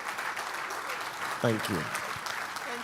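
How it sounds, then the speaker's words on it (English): Applause for a speaker at a speaking event: a steady wash of moderate clapping from the crowd, with a brief spoken thank-you from the stage over it. "Please a round of applause as loud as you can."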